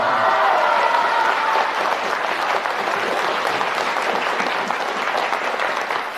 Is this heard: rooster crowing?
no